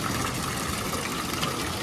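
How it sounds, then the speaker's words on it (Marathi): Water pours steadily from a cow-mouth spout at a hillside temple near Ratnagiri, a continuous close, even rush and splash with no pauses or voices. "मस्त गायमुखाच्या तोंडातून पाणी वाहते"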